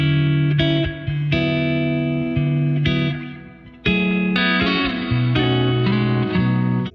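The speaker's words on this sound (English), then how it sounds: "the reverb and effects on the guitar that I have are super like atmospheric and luscious" Electric guitar chords ring out, drenched in lush reverb and shimmering effects, notes sustaining and overlapping in a slow, atmospheric pattern.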